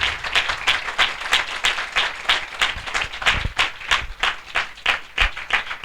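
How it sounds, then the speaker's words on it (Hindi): A church congregation at a worship gathering claps loudly in a steady rhythmic beat, many hands together, close and sustained throughout with no speech over it. "हम जोरदार तालियों से उनका स्वागत करें"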